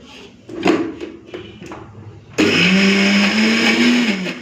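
A few light knocks and clatters lead into a blender starting up, its motor whirring loudly and steadily as it grinds garlic cloves and green chillies.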